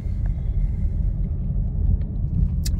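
A Chevrolet Camaro's engine rumbles low and steady while it is being parked, a continuous close idle with a brief high click near the end.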